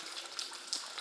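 A short stretch of water rushing in a disused Liverpool railway tunnel, a steady hiss with a couple of small splashes, fairly quiet and without talk.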